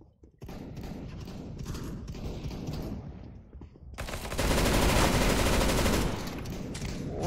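Rapid automatic gunfire in Counter-Strike: Global Offensive, with bursts of close shots and then a loud, sustained stretch of continuous firing in the middle, with no talking.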